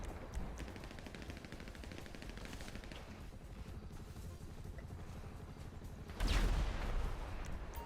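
Rapid automatic Kalashnikov fire in GTA Online during a Cayo Perico heist prep mission, a continuous rattling stream of shots with a louder burst near the end, no voices over it.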